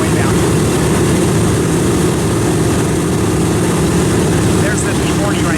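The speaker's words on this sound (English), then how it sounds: "There's the P-40 right there getting to go." A P-40 warplane's propeller engine roars loud and steady, a dense continuous drone that holds at close range for several seconds without letting up.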